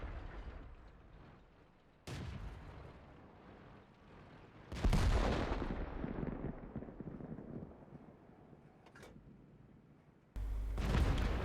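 Tank cannon shots in World of Tanks, with heavy booming blasts that each leave a long rumbling tail, several in succession at loud close range.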